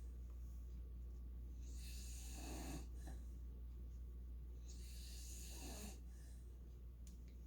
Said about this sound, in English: This dog is snoring and he's not even sleeping.